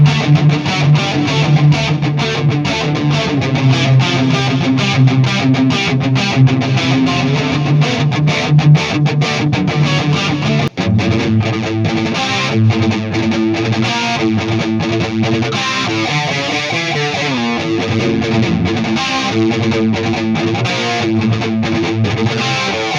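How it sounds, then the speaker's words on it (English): An electric guitar played through a Donner Mini Turbo amp with echo and modulation effects, giving a loud, sustained, distorted tone in metal-style riffs that shifts into more open, ringing notes partway through, with no talk over it. "I'm really curious to see how it sounds with like some more echo and maybe some modulation."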